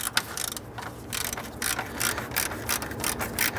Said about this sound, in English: I'm going to use my 1/4-inch ratchet and my 8mm socket, and we'll go ahead and loosen and remove that bolt.